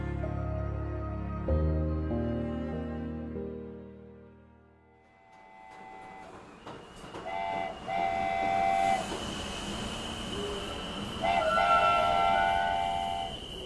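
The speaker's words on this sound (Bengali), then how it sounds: "চিত্রঘাট স্টেশনে যখন ট্রেনটা এসে থামল," A train pulls into a station and comes to a halt, with rumbling wheels and clanking carriages, then high squealing brakes and whistle-like tones rising out of the steady rolling noise; loud and close, with no talking.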